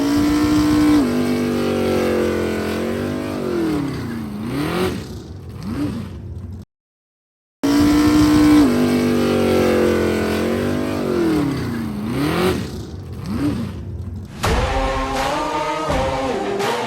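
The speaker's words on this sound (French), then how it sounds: "Driver, start your engine!" NASCAR Euro Series race cars roar past in loud, sustained engine noise with rising and falling pitch sweeps as they accelerate, broken by a brief silent gap, then more revving and a higher whine near the end.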